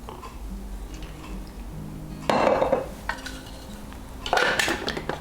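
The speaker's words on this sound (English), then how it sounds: "We'll give this a quick mix." Dandelion pesto with salt and olive oil stirred in a bowl, quiet scraping that turns into a burst of louder clinks and scrapes of utensil against the bowl, then a second burst near the end, no talking.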